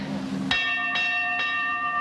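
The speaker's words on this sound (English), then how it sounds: "Well, that sounds like a fire alarm." A hand bell is rung in three sharp, bright strikes about half a second apart, each leaving a clear ringing tone that sustains and overlaps, loud and close, with no talking during the rings.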